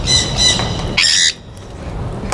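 A flock of free-flight social birds, aged three to seven, squawking in a couple of loud harsh bursts close by, with a brief higher squawk and a quieter call near the end.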